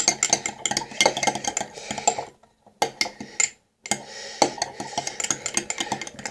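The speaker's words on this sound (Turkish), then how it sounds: "İyice karıştırıyoruz yani" Green slime mixed with water being stirred in a bowl, busy wet clicking and scraping strokes in quick bursts, with two short pauses and close, fairly loud throughout.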